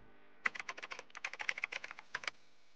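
Quick run of crisp key clicks from typing on a computer keyboard while entering data into a spreadsheet cell on a Mac, about two dozen close, light taps in an uneven rhythm, heard alone.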